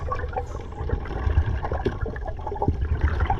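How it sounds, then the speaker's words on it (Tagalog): Churning sea water with a strong current and big waves rumbles and gurgles close by, a continuous turbulent wash with low surging swells throughout. "Sobrang lakas ng agos, ang lalaki ng alon mga idol."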